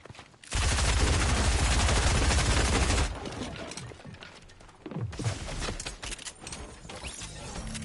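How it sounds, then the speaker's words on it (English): Video game gunfire in Fortnite: a loud, close burst of rapid automatic shots for a few seconds, then scattered quieter shots and mechanical clatter. "Still shooting at me, both of them."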